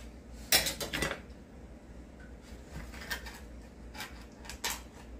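A lemon pie being cut into pieces with metal utensils, making a few sharp clinks and scrapes against the dish, loudest near the start and then scattered and lighter.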